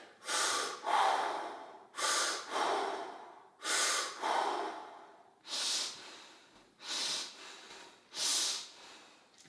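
Slow, deep breaths during a fascia maneuver, about seven close, rhythmic inhales and exhales in a quiet room, each a soft airy rush followed by a short pause.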